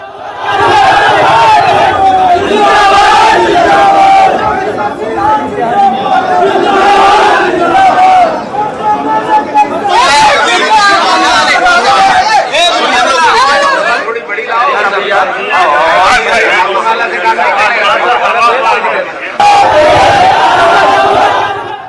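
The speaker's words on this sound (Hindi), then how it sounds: "बड़ी भीड़ थी" A large, dense crowd at an election nomination filing in Bihar roars, chants and shouts continuously in loud waves, with overlapping voices and rising cheers throughout.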